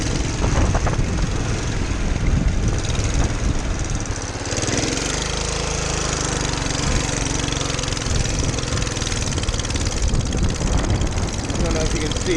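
Engine of a 1947 Whizzer motorbike at about half throttle climbing a long hill, a steady loud buzzing drone throughout with a slight change in tone midway and wind noise mixed in.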